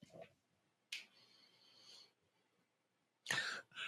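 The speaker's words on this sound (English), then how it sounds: "sorry, that was just a cough." A couple of dry, close coughs from a person, with short sharp bursts separated by quiet, heard alone in a quiet room.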